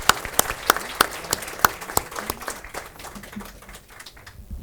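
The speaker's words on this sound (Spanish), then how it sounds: "Le damos un aplauso a su señoría," Audience applause at a seminar on the Supreme Court and human rights held at a Court of Appeals: sharp, scattered claps ring out clearly at first, then thin into a softer, fading patter.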